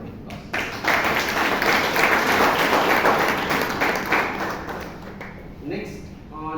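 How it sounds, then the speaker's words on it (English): A Toastmasters club meeting audience in Bangalore gives a sustained round of clapping that swells quickly, holds steady for several seconds, then thins out, with a few voices mixed in underneath. "Both of them deserve another round of applause."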